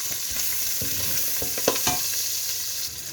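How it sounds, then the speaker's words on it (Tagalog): Garlic and onion sauté in a pan as the base for Filipino chicken tinola, a soft constant sizzle with a few quick scraping stirs in the first half, close by and with no voices. "Una, maglagay na tayo ng bawang at sibuyas."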